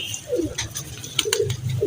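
High-flying pigeons feeding on scattered grain, soft cooing and light pecking and wing patter nearby, fairly close and steady.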